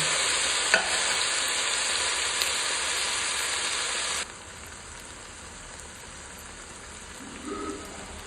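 Spice tempering for paneer bhurji crackles and sizzles in hot oil, a bright continuous hiss that drops sharply to a quieter fizz halfway through.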